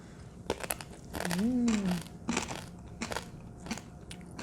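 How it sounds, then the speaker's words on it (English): Crisp crunching bites of chips dipped in vegan queso repeat in short bursts, close to the mic, with a brief hummed voice in the middle. "They're very crunchy. You can probably hear that on the mic, actually."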